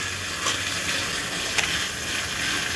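Steady crackling sizzle of mustard seeds frying in hot oil, with a few sharper pops, close and continuous.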